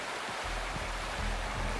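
Steady rushing waterfall in the Wuthering Waves video game, a broad continuous roar of falling water heard alone at an even level throughout.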